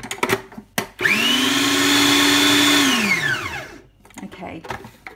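A food processor whirs loudly for about two seconds as it blends cashew nuts into butter, spinning up sharply and then winding down smoothly, with brief talk and clatter before and after.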